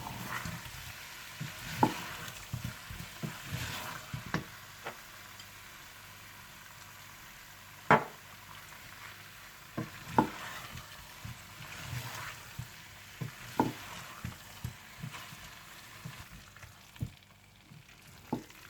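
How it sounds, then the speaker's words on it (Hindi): Aloo gobi being stirred in a pan after green coriander goes in, with soft scraping and light sizzling running steadily through the stretch, scattered louder clinks of the spoon against the pan, and no voices. "और अब इसमें मैं हरा धनिया डालकर मिला लूंगी।"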